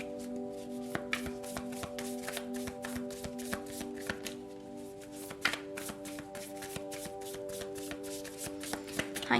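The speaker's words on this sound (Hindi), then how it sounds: "तो चलिए शफल कर लेते हैं।" A deck of cards being shuffled by hand for a card reading, with soft repeated riffles and taps close to the microphone over quiet, steady background music, with no talk.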